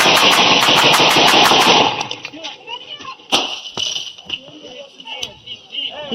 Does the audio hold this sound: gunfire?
yes